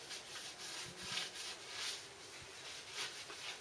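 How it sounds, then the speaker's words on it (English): Cloth soaked in thinners rubbed over bare motorcycle metal on a Triumph project in a garage, a steady close scuffing and wiping with soft repeated strokes, no voices. "Just using straightforward thinners just to wipe the metal down, so it's completely clean."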